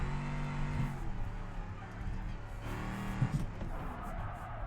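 A car drifts in a handbrake-and-clutch slide, its engine droning with shifting pitch while the tyres scrub and the revs swell and fall, heard from close by.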